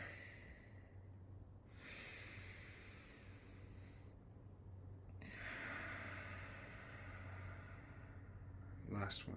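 Slow, deep breaths come in long, airy inhales and releases, taken together before a meal, with a short spoken cue in between.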